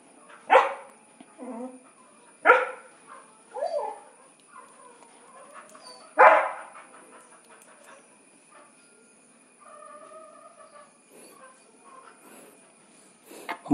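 A dog barks at a farm while chicken is being prepared for grilling, three loud sharp barks spaced a couple of seconds apart, then softer whines and faint background sounds.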